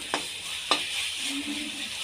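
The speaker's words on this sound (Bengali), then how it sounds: "আলুটা দিবেন, দিয়ে এটাকে ভালো করে কষিয়ে নেব" Potatoes sautéed in spice paste in a pan, with two sharp scraping stirs against the metal over a steady soft sizzle, quiet and close with no voices.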